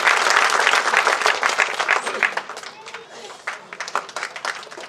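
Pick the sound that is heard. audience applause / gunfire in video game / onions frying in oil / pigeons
audience applause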